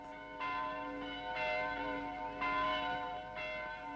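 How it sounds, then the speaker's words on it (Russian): A church tower alarm bell rings out in repeated strokes about once a second, each clang ringing on with a sustained shimmering hum, alone and moderately distant. "Тотчас с колокольни понеслись звуки набата"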